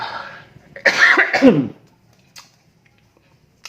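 A person coughs several times in a short harsh burst, then clears the throat, followed by quiet.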